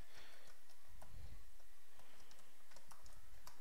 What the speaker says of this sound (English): I'm typing, okay.